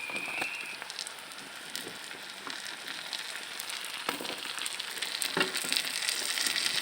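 Fish and potatoes fry in a pan for an Assamese fish and ridge gourd dish, giving a steady close sizzle and crackle that grows slightly louder toward the end, with no talking.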